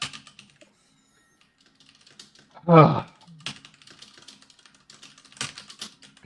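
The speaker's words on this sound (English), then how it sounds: "I hear a lot of typing." Keyboard typing, scattered soft clicks spread across several seconds with a burst of louder noise partway through, while a brief grunt of voice is heard.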